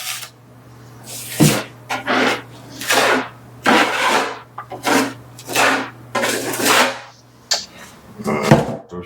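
A knife spreads drywall mud across a wooden door in repeated broad swipes, each a rough, scraping smear with short pauses between strokes, close and loud over a steady low hum.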